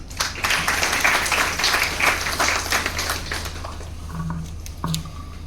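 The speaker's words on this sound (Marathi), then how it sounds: "आपणच आपल्यासाठी टाळ्या वाजल्या पाहिजे" An audience at a public speaking event breaks into several seconds of dense, close applause that thins to scattered claps as it fades.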